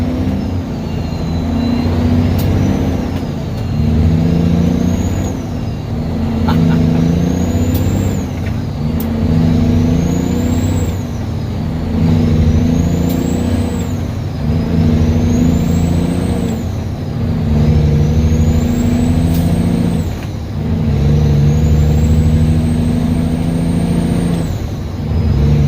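An 18-speed log truck pulls up through its gears, the engine droning loud and close while revving rises and drops with each shift, a whining pitch repeating at every gear change over about 25 seconds.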